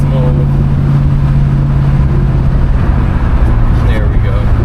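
A 1969 Ford Fairlane engine pulls steadily under light throttle and shifts smoothly, a loud continuous low drone heard from inside the car as a voice talks over it.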